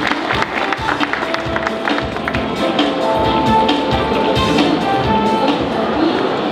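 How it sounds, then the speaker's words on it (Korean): An audience at a public-institution recruitment fair applauds a speaker onto the stage, with dense, sustained clapping filling the hall throughout, loud and close. "모두 큰 박수로 맞이해 주시기 바랍니다."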